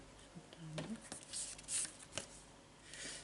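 Tarot cards are shuffled by hand close up in soft, papery riffling bursts, with a faint murmuring voice underneath.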